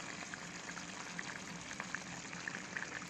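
Goat spleen fry simmering over low heat in a pan, a faint steady bubbling and sizzling hiss with soft scattered pops.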